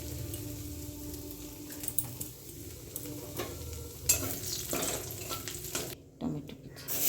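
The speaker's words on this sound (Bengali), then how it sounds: "একটা ফোড়ন দিয়ে দেব।" Nigella seeds tempering in hot oil in a home kitchen while making tilapia fish curry, a soft crackling sizzle with stirring clatter and a few sharp utensil knocks, fairly close.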